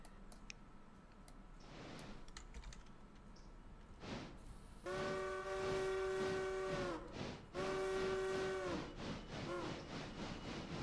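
Train riding in a video game, with a steady rolling rumble and then two long, loud horn blasts close by, each lasting a couple of seconds with a short gap between them.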